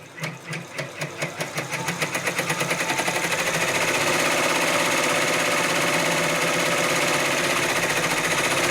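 Brother 10-needle embroidery machine stitching a dense satin-stitch quilt label, starting with slow separate thumps that speed up into a steady, rapid mechanical chatter, close and continuous.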